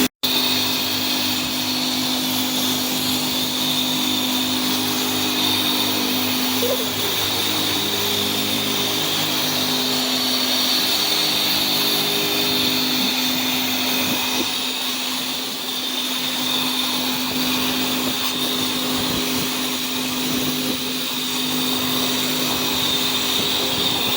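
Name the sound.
pressure washer spraying 1989 Kawasaki Vulcan 750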